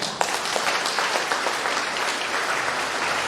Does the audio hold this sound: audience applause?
yes